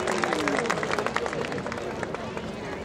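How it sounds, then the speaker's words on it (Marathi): Audience at a Buddhist dhamma conference in Nashik clapping to welcome the next speaker, giving brisk, dense applause that fills the hall at moderate loudness, with crowd murmur underneath. "समीरजी वानखेडे यांच्यासाठी जोरदार टाळ्या झाल्या पाहिजेत"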